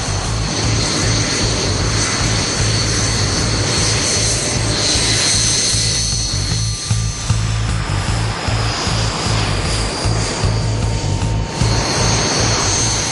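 Royal Air Force Red Arrows display jets fly overhead in a loud, continuous engine roar with a rumbling low end and hissing top, steady for the whole stretch with no talk.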